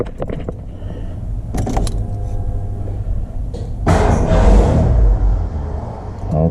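A car engine cranks after its distributor has been reinstalled and the timing set, a low rumbling turnover building to louder churning near the end, close by, with small clicks and jingles before it.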